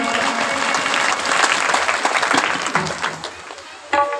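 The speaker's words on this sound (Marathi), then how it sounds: "जोरदार टाळी वाजवा" A crowd applauds loudly at a Shiva Purana katha during a multi-faith Akhand Shivnaam Saptah in Krishnur, with dense, sustained clapping that thins out toward the end while voices mingle in.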